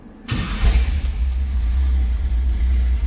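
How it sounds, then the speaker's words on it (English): A truck's 454 V8 starts up and settles into a deep, steady idle rumble, loud and close, running alone without any talk. "this one's going to sound pretty healthy with a 454 underneath the hood"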